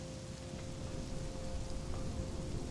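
Steady rain in the survival game Conan Exiles, a soft even patter and hiss with no breaks, fairly faint, with no voices over it.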